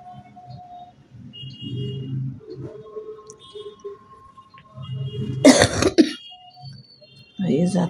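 A woman with a persistent, worsening cough coughs hard in a home kitchen while cooking: a loud, close burst of harsh coughs with throat clearing, between stretches of quieter talk and kitchen sounds.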